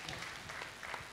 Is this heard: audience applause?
yes